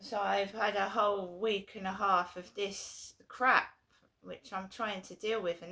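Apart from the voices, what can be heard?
None of the usual background noises is heard.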